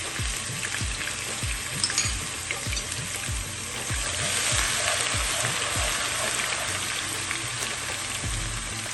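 Chickpeas (chana) and potatoes (aloo) fry in a pot with blended curry seasoning, giving a steady broadband sizzle throughout, with low thuds from stirring at a fairly regular pace and no voices.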